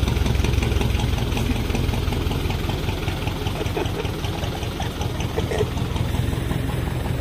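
A jeep engine idles steadily and loudly close by, a constant low rumble with a faint knocking rhythm and no voices.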